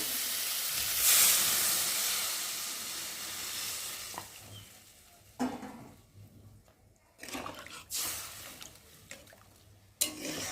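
Water poured into sizzling spice paste in a pan for fish curry gives a loud hissing rush that fades into quieter bubbling, with a few clinks and scrapes later.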